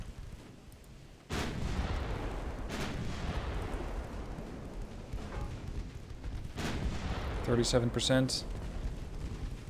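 Naval artillery fire in the warship game Ultimate Admiral: Dreadnoughts, heavy booms with a long rumbling tail, one sudden blast followed by further distant thuds, with a voice talking over them.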